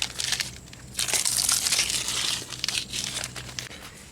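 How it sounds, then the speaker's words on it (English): Masking tape is peeled off freshly spray-painted car rims, giving close, loud crinkling and crumpling bursts over a few seconds. "And we just take our tape off"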